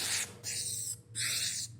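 Upholstery spray glue hisses onto fabric in two long, loud, steady bursts separated by a brief pause, close up, with no voices.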